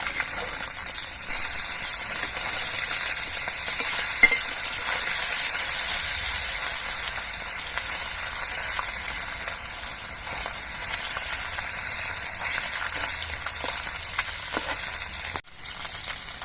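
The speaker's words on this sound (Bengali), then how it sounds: "মাছগুলোর এক পিট কিছুক্ষণ ভাজা হওয়ার পর আমি উল্টে দিচ্ছি" Turned puti fish frying moderately in mustard oil in a kadai: a steady, fairly loud hissing sizzle with small spitting pops throughout and one short knock near the finish.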